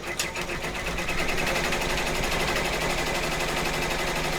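An embroidery machine stitches an applique outline, a fast, continuous mechanical chatter that runs evenly and close throughout without pause.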